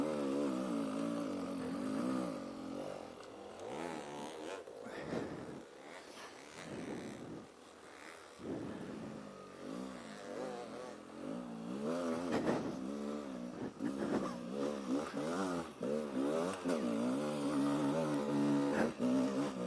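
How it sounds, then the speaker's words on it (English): A motorcycle engine lugs in second gear while climbing a steep, snowy hill on Saddleback after a blizzard, a steady, loud, low drone that rises and swells toward the end, close to the microphone. "I'm just lugging in second gear."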